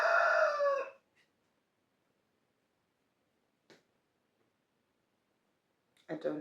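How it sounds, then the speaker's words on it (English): A rooster crows once, loud and close, a short harsh cock-a-doodle-doo that cuts off quickly, followed by near silence with a couple of faint brief knocks and the start of a voice at the end. "before the rooster interrupted us"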